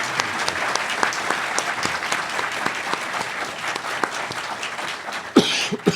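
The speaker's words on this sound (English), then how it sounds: "Could we have a round of applause for our 3 judges?" Audience applause for the three judges at the 2024 UCI Law moot court competition, steady clapping with a few coughs and throat clearings, closing with a louder close-up sound near the end.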